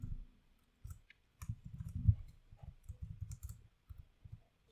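Clicky keystrokes from code being typed on a computer keyboard, coming in short irregular bursts with brief pauses between them, close and fairly quiet, with no voices.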